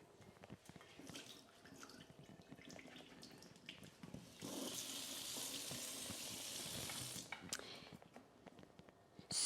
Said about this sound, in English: now we're going to drain them in here and rinse them.